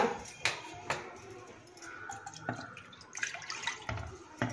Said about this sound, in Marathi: पॅनमध्ये आपण पाणी गरम करायला ठेवूया